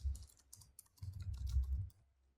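Fast typing on a computer keyboard, close and fairly loud, with a brief pause and then a dense run of keystrokes, no voices.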